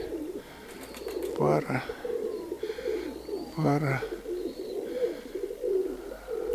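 Grey-speckled white-tailed pigeons coo close by in repeated soft, throaty bursts, with a voice speaking briefly between the calls.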